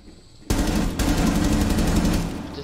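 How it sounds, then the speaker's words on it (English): Rapid automatic gunfire in the Rainbow Six Siege tutorial, a dense sustained burst of shots starting abruptly and continuing loud for about two seconds before tapering. "Where in the freak am I getting shot at from?"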